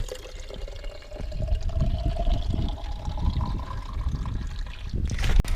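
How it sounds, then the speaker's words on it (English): Water runs and splashes steadily from a roadside water fountain on a mountain col, a continuous close trickling pour with a faint whine overhead and a brief louder rustle near the end. "A water fountain."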